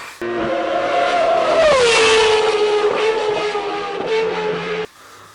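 A loud, high-pitched Renault Williams 3.5-litre V10 racing engine screams past, its pitch dropping as it goes by, then cuts off abruptly.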